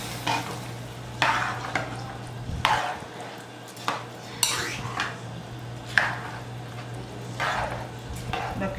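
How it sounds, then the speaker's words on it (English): A spoon scrapes and stirs rice with pigeon peas in coconut milk inside a pot, in several distinct strokes with low sizzling between them, close and moderately loud, with no talking. "And we're gonna give this a good mix."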